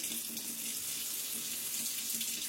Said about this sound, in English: the perfect water pressure coming out of the faucet if you don't want it on full blast or a trickle